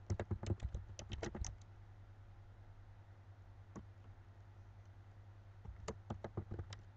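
A computer keyboard is typed on in quick bursts of light clicks, first a rapid run, then a lone tap after a pause, then another flurry near the end, all over a low steady hum.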